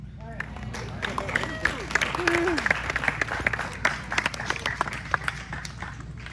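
Wedding guests applaud after a toast with a burst of crisp, overlapping hand claps. The clapping stays steady and fairly close while voices call out and chatter beneath it.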